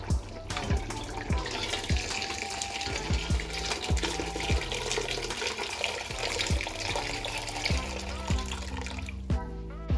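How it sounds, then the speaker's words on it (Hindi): Hot water pours steadily into a pot of cooking mutton for gosht ke sutriya, a continuous splashing gush with small clanks. It is close, with no voices over it. "इसके अंदर गरम पानी ऐड करो"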